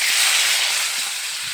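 Eggs frying in hot oil in a wok, a loud dense sizzling hiss held steady throughout, with faint low clatters beneath.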